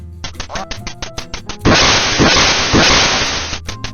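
Quacking from the original NES game Duck Hunt comes through as a fast series of sharp electronic clicks and loud, buzzy bursts of quacking that run together.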